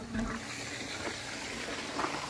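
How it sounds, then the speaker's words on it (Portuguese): Water rushing and trickling into the sump of a large aquarium filtration system as it refills, a steady close wash of liquid with no pauses. "E a gente enche o SAMP de novo."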